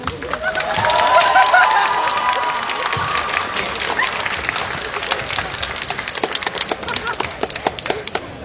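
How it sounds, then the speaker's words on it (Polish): An audience at a cosplay contest during a fantasy convention claps and cheers loudly, with a whistle or shout rising near the start, then sustained dense applause continuing through the moment. "Ostatnie brawa na gościa, który tak krzyknął."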